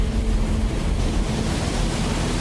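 Heavy surf from giant tidal waves crashing, a continuous rumbling wash of water and wind noise that stays loud and dense without pause.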